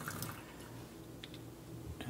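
Water poured slowly off tomato seeds in a container, a faint, steady trickle with a few soft drips and splashes close by, no speech over it.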